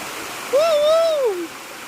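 Hosadevata waterfall at Melinaguli near Ankola, running low, gives a steady broadband rush of falling and flowing stream water, with a brief whistling, rising-and-falling tonal call sounding clearly over it midway.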